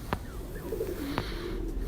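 A female Kamagar pigeon coos softly against steady background noise, with a couple of short, faint coo phrases and a brief click.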